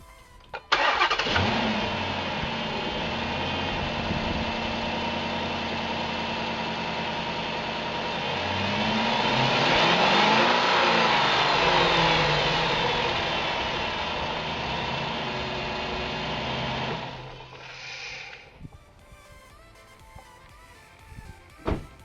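A 2008 Dodge Charger fitted with a cold air intake cranks and fires, then holds a loud, steady idle that swells into a rev and falls back before shutting off near the end.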